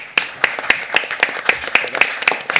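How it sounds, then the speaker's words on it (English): Audience clapping for panellists at a housing policy event, a thin scattering of sharp, irregular claps rather than a full ovation, fairly close. "So if you can join me in a round of applause."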